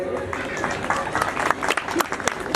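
An audience claps together in a dense, continuous patter of many hands at a crowded gathering, fairly loud and close, with a voice faintly over the applause.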